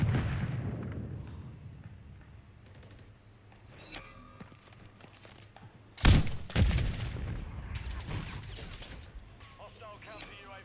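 Gunfire in Call of Duty Modern Warfare III, with a Pulemyot 762 machine gun in play: a rumbling barrage gives way to scattered shots, then a loud close burst of heavy fire and crashing impacts, with a person talking over the action.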